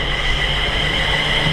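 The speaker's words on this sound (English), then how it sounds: "350-231 now is about to leave" Class 350 unit 350-231 at Stafford station on the West Coast Main Line gives off a brief steady rumble with high, sustained wheel squeal, loud and close.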